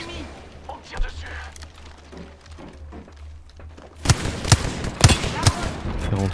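Gunfire in a shooter video game: muffled shots and chatter give way to a loud burst of rapid cracking shots in the last couple of seconds, with players talking throughout.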